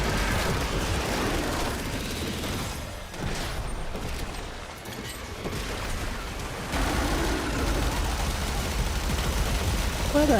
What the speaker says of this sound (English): y'all about to start hearing some fireworks again